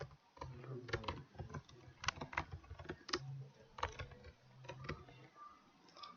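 Quiet, close typing on a computer keyboard while entering a registration form title, with irregular clusters of soft key clicks and occasional heavier strokes against a low background hum.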